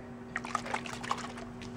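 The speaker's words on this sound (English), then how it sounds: "now I'm just going to take my perfect pearls and water, and I'm making sure it's nice and mixed up." Perfect Pearls powder stirred into water for a card-making project gives small liquid clinks and trickles, a handful of soft close taps over a steady background hum.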